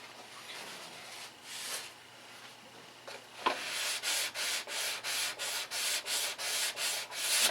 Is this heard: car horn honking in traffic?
no